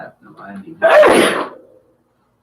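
A single loud, close sneeze bursts out right after a short spoken phrase, then trails off into silence.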